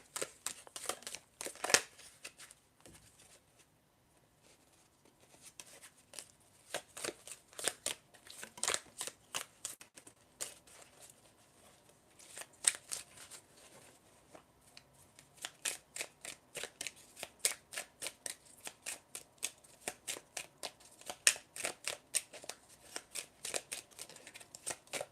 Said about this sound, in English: I'm going to shuffle some tea leaf cards to see what else may come up for you.